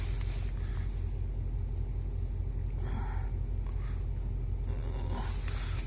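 A 2007 Audi Q7 engine idles steadily with a low, continuous rumble close by, joined by faint scraping and rustling near the car partway through.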